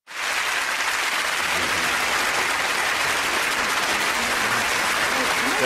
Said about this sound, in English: That's the applause, right?